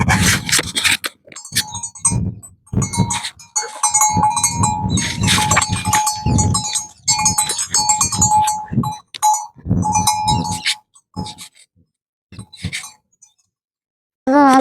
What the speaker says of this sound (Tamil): அடுத்த மாடு கட்டலாம் வாங்க பிரவுன்